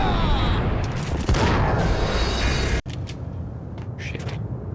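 Gunfire in Max Payne, loud and dense: a continuous roar of shots and booms that cuts off abruptly, followed by quieter scattered game sounds.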